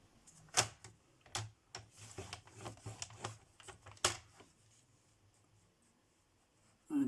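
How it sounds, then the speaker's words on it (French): Paper being folded and creased by hand for a romantic scrapbook album, a series of crisp close rustles and sharp snaps in irregular bursts, then a quiet pause, with no talking. "Ensuite, je vais faire un pli à 1."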